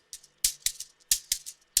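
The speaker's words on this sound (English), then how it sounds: "So I have this shaker, this afrobeat shaker." An afrobeat shaker played in short, crisp bursts of rattling, five or six strokes in an uneven rhythm, close and fairly quiet, alone.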